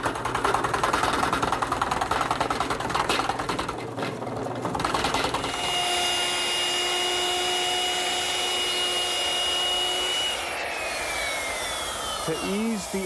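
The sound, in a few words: drilling a decorative end cut with a 2-inch Forstner bit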